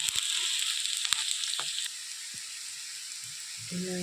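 Taro root pieces fry in hot oil with a steady, close sizzle that eases after a couple of seconds, broken by a few light stirring clinks.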